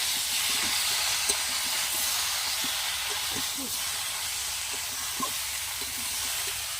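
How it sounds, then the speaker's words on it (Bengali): Fried vegetables and soybean chunks are stirred in a pan over a steady, loud hissing sizzle, with occasional soft scrapes and clinks of the spoon against the pan. "এখন এর মধ্যে ভেজে রাখা সোয়াবিনটা দিয়ে দেবো দিয়ে আবার একটু নেড়ে চেড়ে মিশিয়ে নেব"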